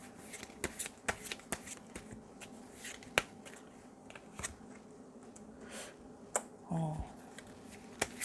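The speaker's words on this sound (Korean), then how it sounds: "상대방 분이 어떤 분이실지 힌트 카드 하나 한번 뽑아볼게요" Tarot cards shuffled and handled during a card-pick reading, quiet crisp riffling snaps and soft flicks of the deck in an uneven rhythm, close and isolated with a brief rustle near the end.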